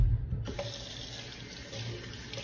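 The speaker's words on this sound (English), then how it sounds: "Make sure you wash your hands before you do anything else." Tap water runs steadily from a faucet into a sink for washing hands before cooking oxtail, a continuous close hiss and splash that starts just under half a second in and holds to the end.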